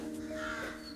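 Crow cawing in the early morning, a drawn-out, hoarse call held for about a second over a steady background hum.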